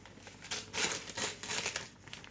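Gift wrapping paper on a present being crinkled and torn open, a quick burst of close crackling rustles and rips, soft and without speech.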